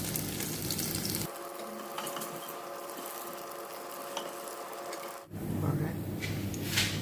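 Tofu frying in a hot pan for a vegetable stir-fry, a steady broadband sizzle up close that cuts off abruptly partway through, leaving quieter kitchen sounds afterward.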